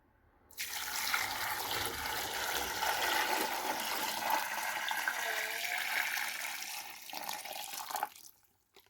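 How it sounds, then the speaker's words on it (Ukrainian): Five litres of tap water gush steadily into a container for several seconds, a loud continuous splashing pour that tapers off and stops at the end. "І вливаю сюди 5 літрів води."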